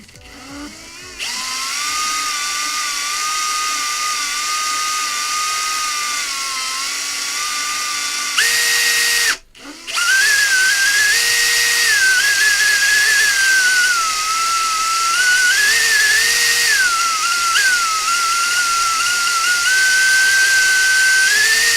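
A power drill drills into a wiring box, its motor whine steady and loud, then pitching up and wavering as it bites, with a brief stop midway before drilling resumes.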